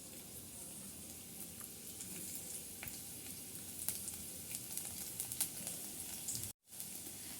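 Finely chopped garlic fries in hot ghee, a soft, even sizzle that stays low and steady with faint crackles before it cuts off abruptly near the end.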